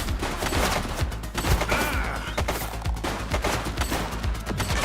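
Rapid bursts of gunfire from a police shootout in The Precinct video game, dense repeated shots and volleys filling the whole stretch at close range, with no talking.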